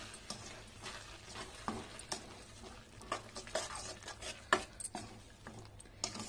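Spoonfuls of spice powder, cumin among them, being stirred into homemade tomato pickle, with soft irregular scrapes and knocks of a spoon against the container, close and fairly quiet, with no talking.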